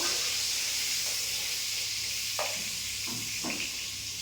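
Pointed gourd with turmeric frying in hot oil in a kadai, a steady close hiss with a few soft stirring scrapes, no talk.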